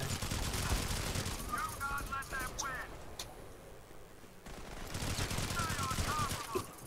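Rapid bursts of automatic gunfire from a squad battle video game, dense volleys that pause briefly midway and then resume, with excited voices talking over the shooting.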